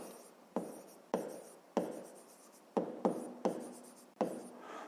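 A pen writes by hand on paper while working a fifth-grade math exercise: about eight distinct, close scratchy strokes, each a sharp start fading off, with no talk.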